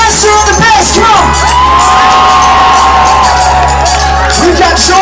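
A large crowd at an outdoor live concert in Tulsa, Oklahoma cheers, whoops and yells continuously and loudly, with shrill shouts rising over a steady low rumble.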